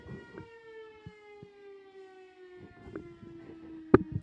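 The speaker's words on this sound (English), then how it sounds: "Oh, the siren's going off." A civil defense siren wails with a steady sustained tone over quiet room ambience, ending with a sharp knock close by.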